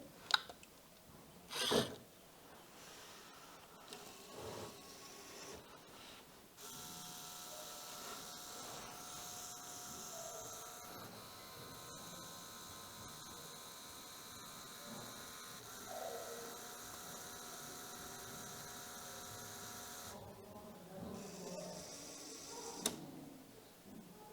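A small homemade robot mixing a mug placed on its platform, a steady motor whir starting after a few clicks and running evenly for about fourteen seconds before stopping, with faint handling knocks at either end.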